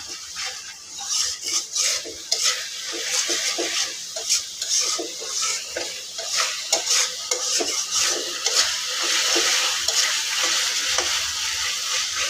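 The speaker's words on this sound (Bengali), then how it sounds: "এদিকে মশলাটা ভালোটিকে কষাই নিতেছি" Egg curry spice paste being stirred and fried in a pan, with steady sizzling and repeated scraping strokes of a spoon against the pan, close and continuous with no talk.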